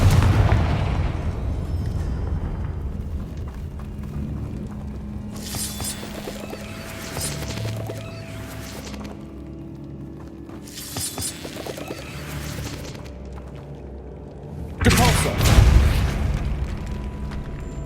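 Booming blasts from the Confringo explosive spell in the Hogwarts Legacy video game, several heavy bursts over a rumbling game soundscape, with a louder impact near the end.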